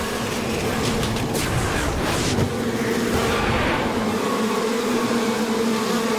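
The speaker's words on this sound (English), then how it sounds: "Oh, the bees are coming through." A dense, steady buzzing of a bee swarm fills the clip, continuous and fairly loud, with a low droning hum beneath it.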